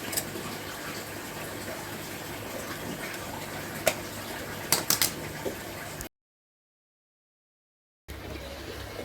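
A pump fills a DIY aquaponics tank with a bell siphon, producing a steady close water rush with a few small splashes, then a brief total dropout before the flow resumes.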